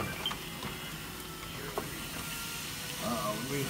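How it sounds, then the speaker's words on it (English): Ribeye steaks sizzle on a homemade double barrel wood burner grill in a garage, a soft steady hiss with faint crackles and a few small pops, quiet throughout. "The sizzle's what you want to hear."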